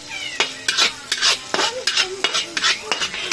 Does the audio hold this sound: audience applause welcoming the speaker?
no